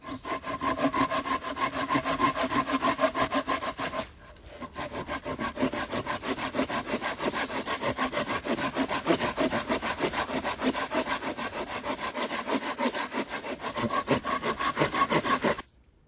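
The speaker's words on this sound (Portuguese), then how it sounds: "vou fazer um entalho, um corte, portanto, até metade da sua grossura" A hand saw cuts a notch halfway through a log to prepare it for splitting, with steady rapid back-and-forth strokes, loud and close, a brief pause around four seconds, then continuous sawing until it stops near the end.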